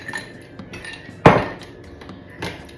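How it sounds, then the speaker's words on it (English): A single sharp clatter of ice cubes dropping into a blender jar, bright and close, with quiet room sound before and after. "I'm gonna add the ice cube,"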